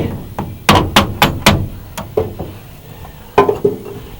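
A brass hammer strikes metal about ten times in uneven bursts while removing a 1967 Corvair steering box, each blow a sharp, close, ringing clank.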